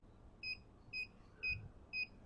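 A lab timer beeps four times at a steady pace, each a short high electronic tone, faint and close in a quiet room during an ammonia test on wastewater.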